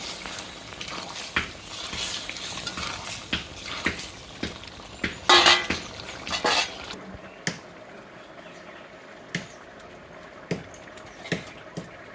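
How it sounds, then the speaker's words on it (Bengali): Fish is added to a finished vegetable curry in a pan, landing with a wet squishy splash and clatter midway, surrounded by scattered utensil knocks and quieter pops. "তরকারি হয়ে গেছে মাছটা দিয়ে দিলাম"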